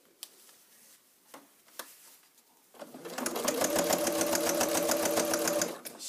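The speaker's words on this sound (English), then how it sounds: "Now I am sewing down very close to the fold." A sewing machine stitches a bag side seam close to the fold, a few faint taps followed by about three seconds of fast, steady mechanical stitching nearby.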